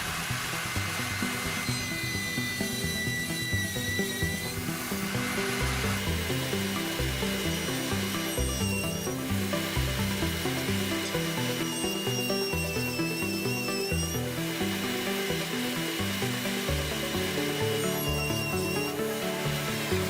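Jointer cutting rough sawn quarter sawn wood, a steady loud machine whine and rough cutting roar filling the whole stretch, with brief higher squealing tones rising and falling as boards pass over the cutterhead.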